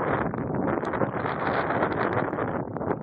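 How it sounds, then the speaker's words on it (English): Wind from a night blizzard gusts steadily against the microphone, a dense continuous roar of buffeting with no voices over it. "The wind still blows."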